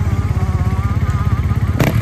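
Honda 500CR two-stroke motocross motorcycle running at a motocross race in Romagné, its engine chugging and revving steadily up close, with a brief sharp clatter near the end.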